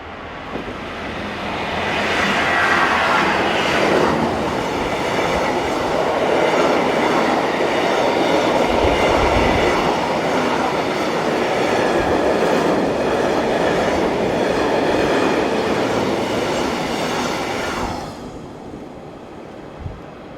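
A freight train of hopper wagons hauled by class 75 locomotives rumbles past nearby, a loud sustained roar with rhythmic wheel clatter that builds, holds for some fifteen seconds, then fades.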